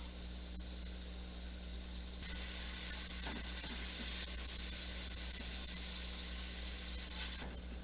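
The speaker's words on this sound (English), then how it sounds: "Just want to cook those onions just a little bit and cook that garlic just a bit" Chopped onions and minced garlic sizzle steadily in a soup pot with vegetable bouillon, a constant close frying hiss that swells slightly midway, with no voices.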